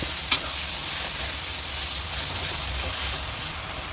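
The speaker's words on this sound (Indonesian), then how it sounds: "Dan aku masukkan cabenya." Blended chili mixed with garlic, shallot, ginger and turmeric fries in a pan with a constant loud sizzle, a brief clatter near the start, then steady spattering hiss up close.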